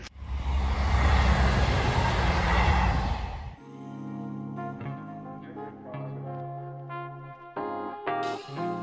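A loud, broad rumble of a train passing for a few seconds at a Nottingham city centre station, then quieter station ambience with tonal hums and scattered clanks.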